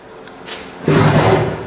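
A drawer on a restored teak potter's bench slides and closes with a short wooden thud, followed by a steady rumbling scrape, loud and close, with no speech.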